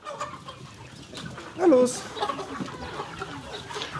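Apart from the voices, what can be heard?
hundreds of roosters and hens clucking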